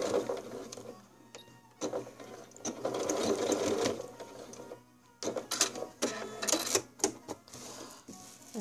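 Sewing machine stitching a puffy pot holder, a close mechanical whir in several runs of rapid stitching separated by short pauses and clicks.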